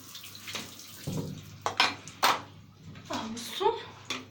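Tap water rinses a vacuum cleaner part, splashing in irregular bursts close by while a person talks over it.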